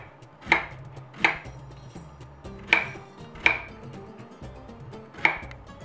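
A knife chopping zucchini for an Afghan snack, five crisp knocks at an uneven pace against a board, close and clear with no talking.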